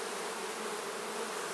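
Honey bees buzz steadily around open hive frames during a hive split, a close, dense hum that holds at one level throughout without pause.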